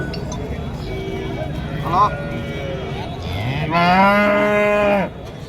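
Cattle low at the Karimangalam cattle market in Tamil Nadu, one short moo early on and a long, loud drawn-out moo near the end, over a murmur of market background noise.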